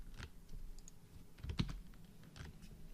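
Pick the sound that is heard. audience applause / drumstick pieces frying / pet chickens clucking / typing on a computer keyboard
typing on a computer keyboard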